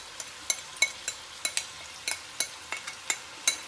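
Onion, yogurt and almond paste with spices frying in a pot for korma kabab, with a soft sizzle under about a dozen sharp, evenly spaced clicks of a spoon stirring against the pan.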